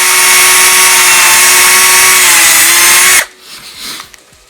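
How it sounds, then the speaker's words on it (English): A power drill with a 7mm bit bores through the plastic case of a Quansheng UV-K5 handheld radio, a loud steady high whine held for about three seconds before cutting off abruptly into quiet handling noise. "So when you are drilling, make sure it's level."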